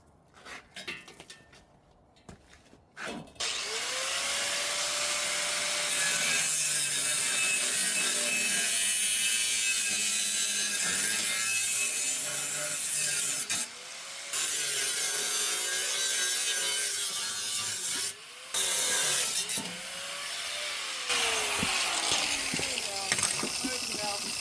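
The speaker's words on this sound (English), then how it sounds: "we're probably going to cut this off right about here somewhere" A hand saw rasps steadily through a section of Hummer H3 exhaust pipe, long continuous back-and-forth strokes with brief pauses, close and loud, a voice talking briefly at the start.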